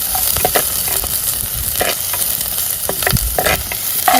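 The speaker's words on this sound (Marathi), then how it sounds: "कांदा छान परतून घ्यायचा आणि मगच टोमॅटो वगैरे घालायचं" Onion sizzles and fries loudly in a pan over a wood-fired stove, a steady crackling hiss broken by scraping stirs of a spoon, up close with no talking.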